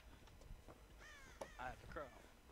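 Crow cawing in the Dead by Daylight video game, a few harsh caws close together near the end over a low game background with some voice activity.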